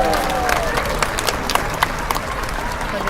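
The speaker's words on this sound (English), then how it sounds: "Let's give Orchid a big round of applause." A SeaWorld San Diego audience applauds Orchid the orca after a training session, with broad crowd clapping and scattered sharper claps over a general murmur, with some voices mixed in.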